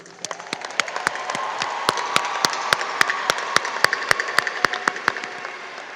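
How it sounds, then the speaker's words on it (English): Graduates at a high school commencement give a rowdy round of applause, sharp individual claps ringing out close and loud over a swelling bed of crowd clapping. "applause."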